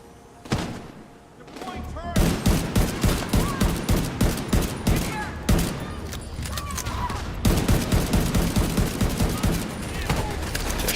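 Gunfire erupts in a firefight in the video game The Division 2, with dense repeated bursts of shots and heavy thumps that keep up steadily for several seconds, loud and close.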